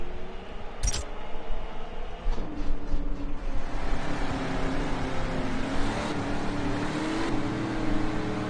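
Engine of a race car in a PC racing game, VRC Pro, a steady droning motor tone with shifting revs that rise and fall throughout, with a short sharp click near the start.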